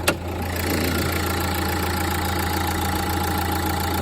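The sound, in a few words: Nissan NV200 camper van engine idling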